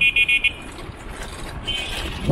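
Car horn honking in a series of short toots at the start, then a longer blare near the end, sounded amid road traffic during a car-free walk and cycling event at PIK 2.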